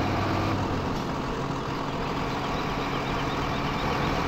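A truck engine in Farming Simulator 2015 runs as a steady, loud drone for about four seconds, droning on without pause and without clearly separate gear changes.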